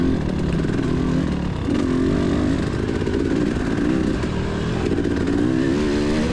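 A TE300 dirt bike engine revs loud and close at a KXCR race, The Holler in Clay City, Kentucky, its two-stroke drone rising and falling steadily without pause.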